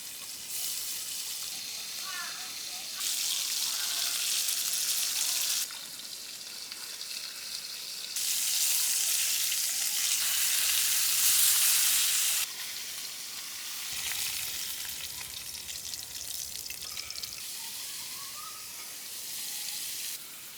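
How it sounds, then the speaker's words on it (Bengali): Pond fish frying in hot oil in a pan after being rubbed with turmeric and salt, a steady close sizzle and hiss that surges and eases in waves as the fish shifts, with no talking. "আর মাছগুলো ভাজার জন্য তেল"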